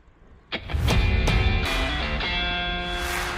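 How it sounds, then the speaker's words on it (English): A truck approaches along a road near Midvaal, south of Johannesburg, during a bike ride, its engine and tyre roar swelling suddenly and then holding loud and close for several seconds over wind noise. "So truck coming"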